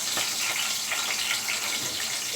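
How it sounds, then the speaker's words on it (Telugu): Fenugreek leaves crackle and sizzle in hot oil in a pan, giving a dense, steady hiss with scattered pops, close and loud, with no voices. "అది చిటపటలాడుతుంది."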